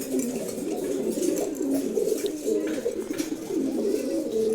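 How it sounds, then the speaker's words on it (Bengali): A male pigeon coos steadily and close by, its low rolling calls repeating without a break against a faint background hiss. "খুবই সুন্দর একটা নর কবুতর"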